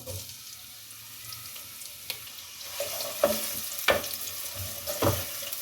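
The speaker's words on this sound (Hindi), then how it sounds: "प्याज को हल्का सा फ्राई कर लें, इसका हल्का सा कलर चेंज हो जाए बस।" Sliced onion fries in hot ghee with a faint, airy sizzle, and the stirring grows louder with a few distinct scrapes and clacks of a spoon against the pan.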